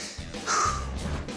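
A crow caws once, a harsh, raspy call of about a second that stands out loudly over faint low background noise, with no talking.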